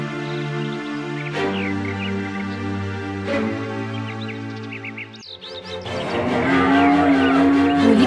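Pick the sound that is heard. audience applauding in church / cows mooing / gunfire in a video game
cows mooing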